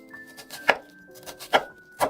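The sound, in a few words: chopping an onion with a knife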